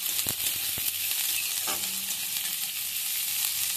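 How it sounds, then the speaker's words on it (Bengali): Chopped onion and green chilli sizzle in oil in a frying pan over a medium gas flame, a steady broadband crackle with a couple of sharp clicks early on and no talking. "এবার আমি দিয়ে দিচ্ছি পেঁয়াজ কুচানো আর লঙ্কা কুচানো।"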